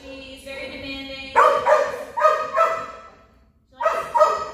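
A one-year-old golden retriever barks in a run of loud, close woofs and yips, separated by whiny pauses and a short silence before two more barks.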